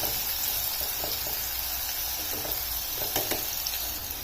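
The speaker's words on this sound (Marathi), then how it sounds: "कांदा चांगला गोल्डन होईपर्यंत परतवून घ्यायचा" Chopped onion frying in a pan until golden gives a steady, close sizzle with a few soft stirring clicks. It carries on alone without any talk.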